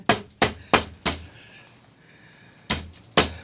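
A sledgehammer striking a chair during repair, four heavy, close thuds in fairly quick succession, a short pause, then two more blows, loud with no talk.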